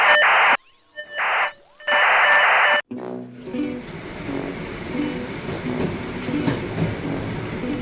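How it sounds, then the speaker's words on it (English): Train rolling through remote Siberia: a steady rumble with clickety-clack rhythm over the rails, preceded by a few loud blaring horn-like tones at the start, close and continuous with no talk. "we switched to another train going even deeper into the middle of nowhere"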